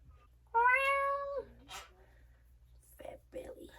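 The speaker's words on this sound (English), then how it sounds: "Meet my kitty cat." A pet kitty cat gives one clear, drawn-out meow up close, followed by soft whispery breathy sounds and quiet noises at a lower level.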